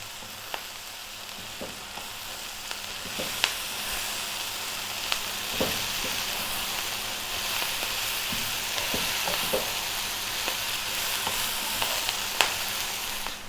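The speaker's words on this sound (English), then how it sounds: "So we're basically going to stir fry this in now." Kale with cumin and garlic stir-frying in a pan, a steady broadband sizzle with scattered clicks and scrapes of stirring throughout, close and even, no talking.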